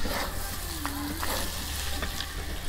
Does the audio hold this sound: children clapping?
no